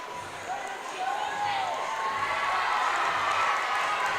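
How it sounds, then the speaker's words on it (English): A high school volleyball crowd with a student section cheers and shouts in a gym during a senior-night varsity match, the roar building and staying loud throughout. "Crowd, the student section, and Coach Kerr and the players making a little noise here in front of us"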